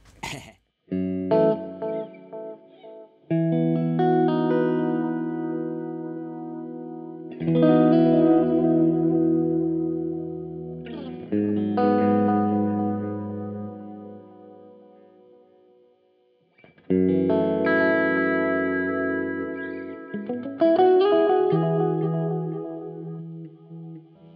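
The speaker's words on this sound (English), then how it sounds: "I think that's just a transistor style tape echo." Line 6 DL4 MkII delay pedal on a transistor-style tape echo setting, sustained distorted guitar chords ringing out with repeating echoes and reverb, in several long swells separated by brief pauses, loud and without talk.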